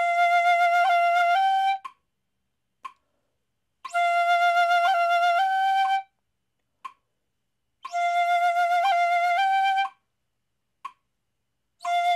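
Shinobue bamboo flute played with yubi uchi finger-striking plays a short repeating phrase three times, with bright sustained notes broken by quick finger-struck articulations and short pauses, played solo.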